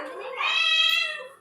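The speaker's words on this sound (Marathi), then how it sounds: "कशी म्याव म्याव करते" A single drawn-out cat meow, rising then fading, heard up close and clear.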